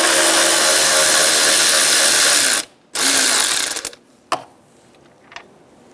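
Ratchet with a 10 mm socket removing a radiator cooling fan bolt on a 2011-2014 Hyundai Sonata: loud continuous rapid clicking, a short pause, another run of clicks, then a few isolated ticks as the bolt comes free.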